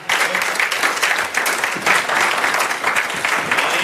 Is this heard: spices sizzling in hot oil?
no